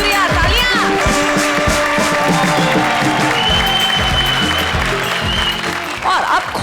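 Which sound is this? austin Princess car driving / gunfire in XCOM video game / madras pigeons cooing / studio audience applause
studio audience applause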